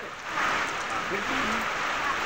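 Heavy rain pouring on a farm during a windy storm, a steady broadband hiss throughout, with a voice murmuring faintly underneath partway through.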